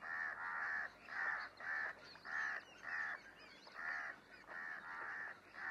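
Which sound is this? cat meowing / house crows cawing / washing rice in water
house crows cawing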